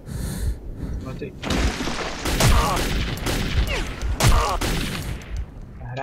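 Rapid bursts of gunfire and impacts in the game Metro 2033 crackle loudly, with people talking excitedly over the shots.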